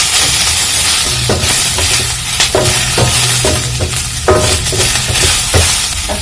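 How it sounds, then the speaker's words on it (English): Onions dry fry in a karai, crackling and sizzling loudly and close with a steady hiss and repeated scraping stirs at a regular rhythm. "I'll add my onions, and then I'm just going to dry fry them until they are little golden"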